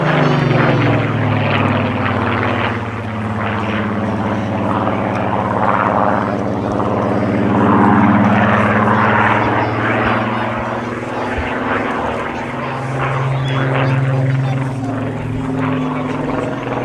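A Supermarine Spitfire flies at an air festival, its piston engine a loud, sustained droning roar that swells and shifts in pitch as it passes, with a commentator's voice heard over it.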